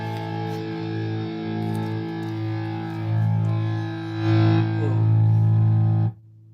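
An Epiphone Billie Joe Armstrong Les Paul Jr electric guitar rings out through heavy distortion, held chords swelling louder toward the end before the sound cuts off abruptly, leaving a faint hum.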